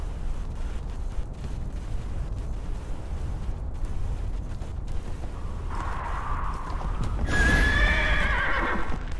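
In the video game Neverwinter, hooves clop steadily under a low rumble, then a horse lets out a loud, shrill neigh near the end.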